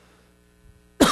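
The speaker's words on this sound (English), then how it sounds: "Excuse me, I have to cough." A single loud, close cough from someone speaking at a campus update, bursting out abruptly after near silence with faint hum.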